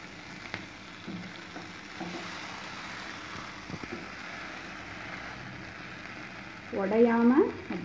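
Chicken legs fry on a dosa griddle with a low, steady sizzle and occasional taps as the pieces are turned, ending with a louder scrape and clatter.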